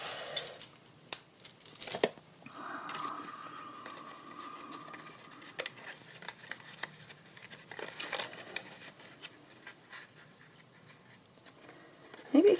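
Scissors snip through a ribbon end in a few quiet, crisp cuts close by, among soft rustling and handling noises.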